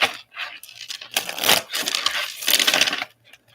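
Bursts of papery riffling and flapping as tarot cards are shuffled, several quick rounds close by with brief pauses between.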